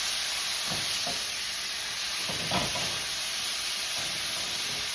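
Onions and mushrooms spatter in a hot skillet for a low-carb Philly cheesesteak, giving a steady broadband sizzle with a few soft pops and stirring sounds along the way.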